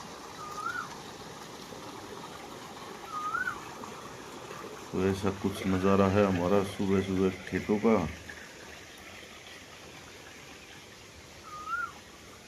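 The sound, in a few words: irrigation water flowing through village field channel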